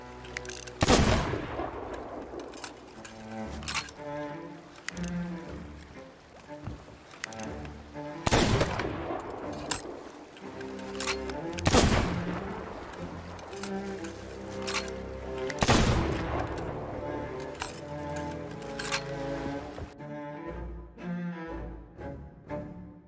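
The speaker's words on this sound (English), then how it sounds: "To decrease reload for your sniper rifle, tap double X after shooting." A sniper rifle fires in the pirate video game Sea of Thieves: loud booming shots repeat at intervals, each with a long echoing tail, over a busy game soundscape.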